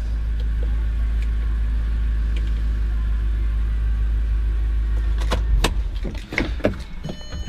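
An Audi S3 with a six-speed manual gearbox idles steadily with a low, even engine rumble, close by; near the end a few sharper knocks and clunks break in over the running engine.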